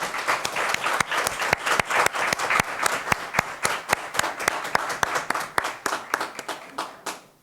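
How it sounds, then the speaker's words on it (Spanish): Members of an ordinary session of a commission applaud together in a steady stream of sharp individual claps that thins out and stops near the end. "un aplauso para todo lo que se ha logrado aquí"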